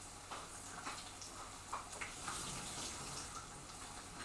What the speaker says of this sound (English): Just getting rid of the water that they come in.